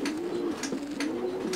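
Racing pigeon cooing close by, a young cock bird ready for pairing: repeated low throaty coos in a steady rhythm with soft breathy bursts, no talking.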